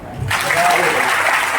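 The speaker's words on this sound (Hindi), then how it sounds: "अच्छी तालियां क्या है?" Applause from an audience at a motivational seminar, a dense wash of many hands clapping that bursts in after a brief pause and holds steady and loud.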